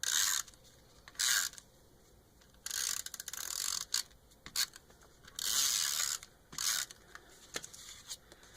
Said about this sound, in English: Tombow Mono Permanent Adhesive for dry stuff.